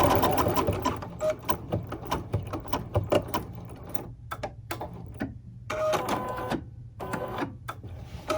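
A sewing or embroidery machine stitches fabric onto stabilizer in rapid, rhythmic mechanical bursts, running close and steady with brief pauses between runs.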